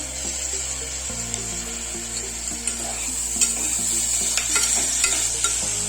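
Tomatoes go into sautéed onions in a pan for spicy mutton kari saaru curry, giving a continuous close sizzle broken by scattered scraping clicks of stirring.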